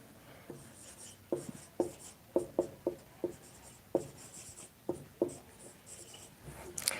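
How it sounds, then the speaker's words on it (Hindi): Chalk or marker writing a maths question on a board, a run of short scratchy strokes in uneven bursts, close and fairly quiet, with no talk over it. "देखिए क्वेश्चन में लिख रहा हूं,"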